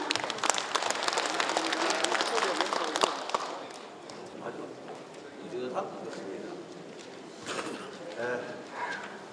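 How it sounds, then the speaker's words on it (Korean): Audience applause welcoming a speaker at a Gyeongsangbuk-do Confucian association ceremony, dense clapping for about four seconds that thins and fades, with a voice speaking over the tail. "박수로 모시겠습니다"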